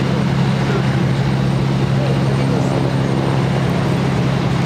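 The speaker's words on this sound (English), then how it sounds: "This A330 is coming in from Amsterdam" A Delta Airbus A330 arriving from Amsterdam at Boston Logan makes a loud, unbroken jet roar that fills the whole clip, with voices talking faintly underneath.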